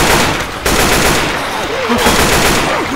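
Sustained loud automatic gunfire from Left 4 Dead 2, with a dense, unbroken burst of shots filling the whole moment and no clear talk.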